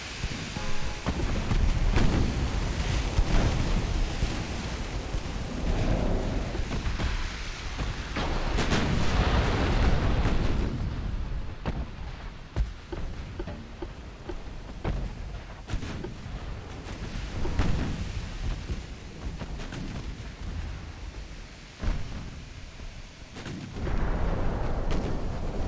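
Naval artillery in the battleship game Ultimate Admiral: Dreadnoughts, a French 1900 campaign, roars as sustained heavy booms and rumbling blasts that overlap into a dense, loud barrage throughout, with brief thinner stretches between salvos.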